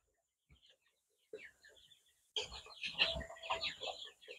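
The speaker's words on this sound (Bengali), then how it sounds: "32 দিন বয়সী মুরগির অবস্থা এই যে আপনারা দেখুন।" Young Sonali chickens, 32 days old, on a farm of about 400 birds, give faint scattered clucks that swell into a busier chorus of clucking and chirping partway through, with a possible voice mixed in.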